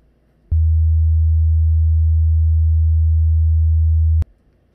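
A low sine wave tone under 100 Hz, generated in Audacity, switches on abruptly with a click, holds steady and loud for almost four seconds, then cuts off with another click.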